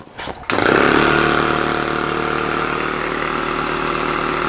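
A Wylie Harris Tubo Metal Products model steam engine running on compressed air at very low pressure, a brief hiss and start followed by a steady, close, loud mechanical chugging that holds evenly throughout with no talk.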